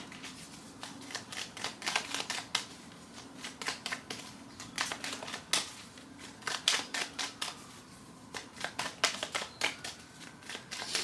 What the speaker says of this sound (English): One more card for the bridge, please.